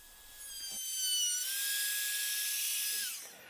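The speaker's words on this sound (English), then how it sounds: "Now a little bit of rounding with my router around the edges" A router rounds over the edges of a wooden piece, whining at a high steady pitch as it spins up, cuts for a couple of seconds, then winds down, close and loud.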